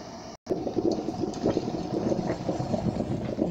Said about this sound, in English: I hear it bubbling and shaking.